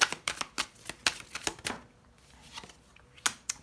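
Tarot cards being shuffled close up: a series of crisp snapping flicks in uneven bursts, with a brief pause before a final few flicks.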